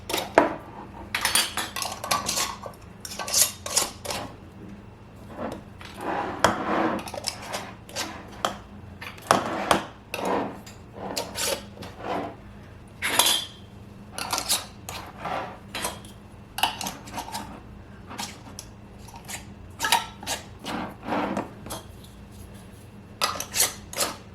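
Metal canning jar rings are screwed onto glass jars of green tomato mincemeat until finger tight, giving a long run of close, sharp clinks, scrapes and clatters in uneven bursts against a quiet kitchen background.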